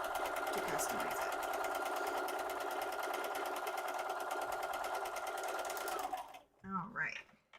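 A sewing machine stitches fabric for a Christmas sewing project, running in one loud, close, continuous fast whir for about six seconds before stopping abruptly, followed by a brief bit of talk.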